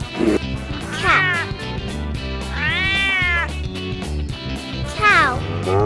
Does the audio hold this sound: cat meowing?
yes